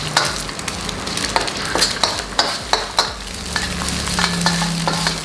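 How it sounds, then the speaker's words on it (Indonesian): Eggs are scrambled in a hot frying pan: a continuous sizzle runs beneath repeated scraping and tapping strokes of a utensil against the pan, with no talking. "Ini telurnya kita orak-arik dulu di sini."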